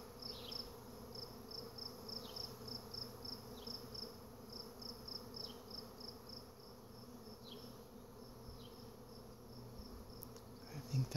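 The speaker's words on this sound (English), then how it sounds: "I think that's just all bees stacked on top of each other, making a hive, brand new hive." A new swarm of bees settling into a brand-new hive hums as a steady insect drone, with faint repeated high chirps over it and no talking.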